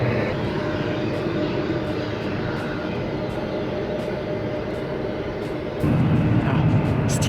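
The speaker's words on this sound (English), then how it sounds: "Got that prototype jet coming back." A prototype jet roars steadily on approach at a desert air and space port, its broad engine rumble holding loud and even, then swelling and growing rougher near the end.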